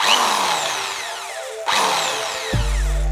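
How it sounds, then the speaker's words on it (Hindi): An electric drill fitted with a mini HSS circular saw blade spins with a high whirring whine that sweeps up and down, briefly stops, then settles into a steady loud run near the mic. "अब मैं ड्रिल को ऑन करके दिखाता हूँ।"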